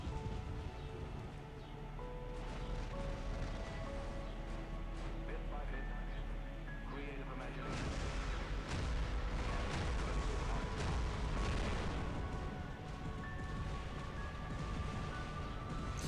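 Robot weapons fire in the War Robots video game as dense, rumbling bursts and booms layered over game music and effects, growing heavier partway through.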